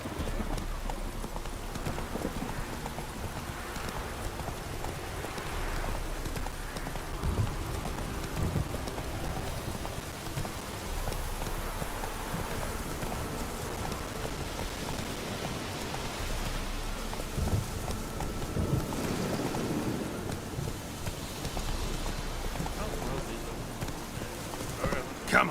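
Hooves of Roach, a horse in The Witcher 3 video game, clip-clop at a steady galloping rhythm through heavy rain, with occasional thunder and a voice in the background.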